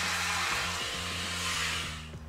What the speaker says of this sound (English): So I'm grabbing a vacuum cleaner.